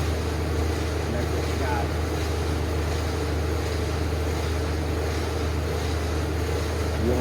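A torch heats the steel around a broken bolt, giving a steady, loud, broadband roar that holds unbroken throughout, with someone speaking briefly over it.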